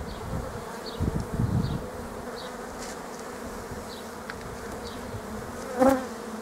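A honeybee swarm hums steadily around a hive during apiary swarm splitting, a continuous close buzz with occasional individual bees darting past, plus a few light knocks and one brief thump near the end.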